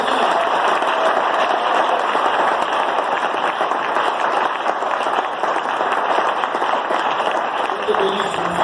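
A church congregation applauding and cheering in praise, a loud steady roar of clapping that holds for several seconds, with voices mixed into it.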